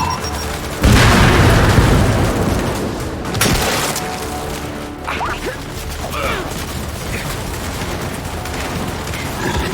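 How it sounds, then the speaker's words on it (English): A frag grenade goes off with a loud, heavy boom in the Gears 5 video game, and then a long, rumbling decay follows with scattered gunfire and mechanical clatter underneath. "Throwing frag!"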